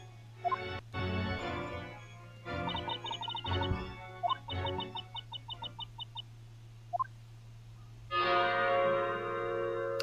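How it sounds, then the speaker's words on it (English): A bell rings in the video game Professor Layton vs. Phoenix Wright: Ace Attorney, with bright repeated chimes in two runs over a steady low game hum and scattered effects, then a whooshing swell at the end. "There's the bell, time to clonk out."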